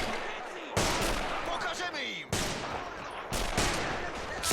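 Artillery strikes and gunfire on a WWII Poland defense battlefield in Men of War, with heavy booming impacts at regular intervals over a constant rumble of shooting, and a descending whistle in the middle.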